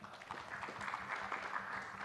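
Audience at a housing expo clapping for a panelist, a soft, steady patter of many hands heard from a distance and fairly faint throughout.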